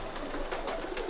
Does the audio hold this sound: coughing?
no